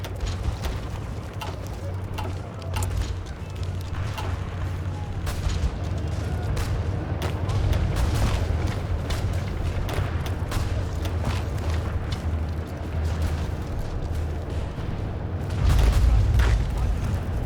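Artillery fire in the strategy video game Hearts of Iron IV, in the Kaiserreich mod with the Ottoman Empire, comes as a continuous rumble of repeated booms and dull thuds with no voices.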